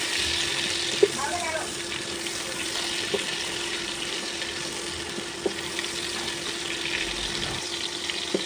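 Pieces of pointed gourd (potol) fry gently in oil, a steady soft hiss running throughout with a few small pops and clinks scattered across it, at moderate closeness and without any voice.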